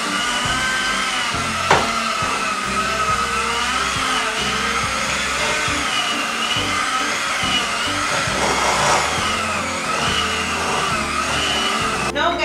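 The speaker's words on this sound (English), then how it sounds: "what you're going to do is to cream the butter and the sugar until doubling size" An electric mixer creams butter and sugar for a vegan sorrel cake, running as a loud, continuous motor whir with a steady high whine and a choppy, churning low rumble, uninterrupted throughout.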